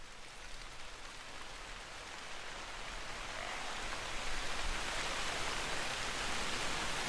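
Steady rain hissing in the hunting video game theHunter: Call of the Wild, a broad, even wash of falling water that swells slightly louder over several seconds, with no voices.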